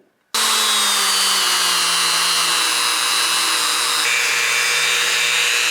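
A power buffer spins up suddenly and runs loud and steady against a ladder Damascus steel blade, a continuous high whine with a slowly drifting motor tone, close and alone.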